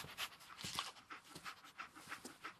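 The dog Dogmeat from the game Fallout 4 panting in quick, rhythmic breathy huffs, fairly soft and close, with no voices.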